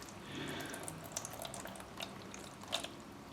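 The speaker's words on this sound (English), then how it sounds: "I'm going to put some water in the tray that they're in" Water poured into a plant pot tray holding small potted sage cuttings gives a steady, close trickling with scattered drips and splashes, fairly quiet and continuous with no talking.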